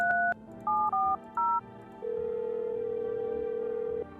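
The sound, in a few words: telephone dialing a number, from a video game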